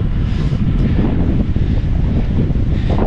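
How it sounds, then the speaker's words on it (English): Strong wind near Ottawa International Airport buffets the microphone in loud, continuous low rumbling gusts, with no voices present. "It's known as being very windy up here."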